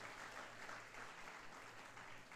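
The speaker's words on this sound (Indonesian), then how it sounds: "Berikan tepuk tangan buat Tuhan yang paling meriah." A congregation claps together at a church Christmas service at GBI Pangkalan Jati. The applause is faint, distant and even, and it holds steady without pauses.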